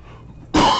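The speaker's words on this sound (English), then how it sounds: "It's making me cough." A single loud, sharp cough bursts in after a half second of quiet background hum, close to the listener.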